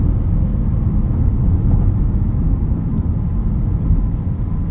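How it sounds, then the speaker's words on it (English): Steady broadband wind rush and aerodynamic roar inside a 2023 BMW X1 cruising at speed, a continuous loud low hum with no voices. "I'm hearing the wind. I'm hearing all the aerodynamics."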